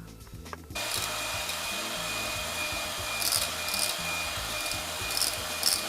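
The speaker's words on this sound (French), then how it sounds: "je vais fouetter la crème liquide" White chocolate mousse prep: liquid cream whisked by hand into whipped cream, a steady brisk scraping and swishing that begins after a short quiet moment and continues without pause, close and fairly loud with no talk.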